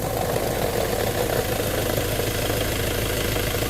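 Steady mechanical whine and drone from a Mazda BT-50 Pro pickup's gearbox with the clutch released, after the wrong grade of gear oil was used, running continuously at close range with the engine idling underneath.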